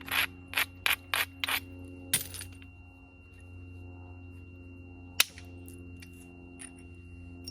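A stone spear point being ground along its edge during flintknapping, a Hernando style point worked at a rock pile: five quick raspy scrapes in a row, then a single rub and a sharp click later, close and fairly quiet.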